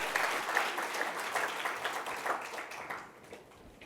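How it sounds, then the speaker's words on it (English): Audience applause greets a game show contestant being called up on stage, a dense wash of many hands clapping steadily before tapering off near the end. "Everybody give Mike a big round of applause"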